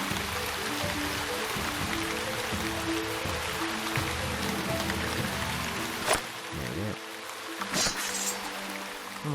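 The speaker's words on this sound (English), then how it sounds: "everywhere I seem to go seems to be raining at the moment" Rain falls steadily in the fantasy role-playing game Shroud of the Avatar, a dense continuous hiss of droplets with low rumbling and a couple of brief sharp clicks and whooshes mixed in, no voices.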